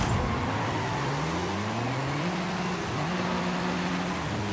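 A red 788-horsepower Toyota Camry TRD widebody time attack car pulls away hard with wheelspin, its engine note rising and falling in a loud, continuous roar close by.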